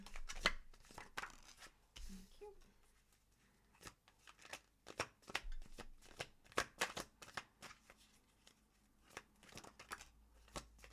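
Tarot cards being shuffled, a brisk series of crisp riffling and slapping bursts, close and fairly quiet, with short pauses between flurries and no talk.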